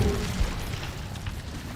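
A deep, rumbling blast from the Confringo fire spell in the Hogwarts Legacy video game, a loud, booming low roar that fills the moment with no talking.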